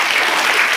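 Schoolchildren in a classroom activity clap together in a brief, dense burst of applause, loud and close, lasting under a second without any talking.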